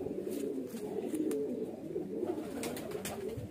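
Highflyer pigeons held in the hands make soft coos and brief flutters, close and fairly quiet, with short flicks of wings and bright taps scattered through a low murmur.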